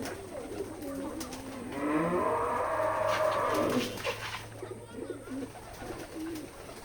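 Pigeons coo in a soft, murmuring chorus at close range while the flock feeds, with a louder swell of calls in the middle before settling back into a low, steady background.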